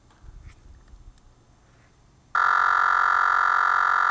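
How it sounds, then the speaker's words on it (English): Programming data signal tone from a Magic2 animation control box, heard after a stretch of quiet room noise with faint handling sounds, then a loud, steady buzzing tone that starts abruptly and holds without a break until the end. "That's the sound of the data."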